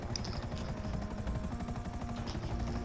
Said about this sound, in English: Aha, helicopter.